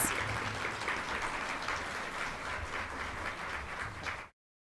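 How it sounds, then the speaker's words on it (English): Applause from an audience at a university faculty development day awards ceremony, a steady dense round of many hands clapping that runs about four seconds before cutting off abruptly. "Give them all a round of applause."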